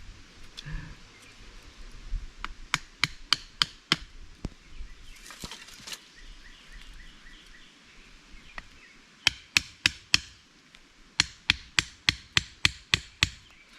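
Sharp wooden knocks from hammering come in quick bursts of several strikes with short pauses between, crisp and close.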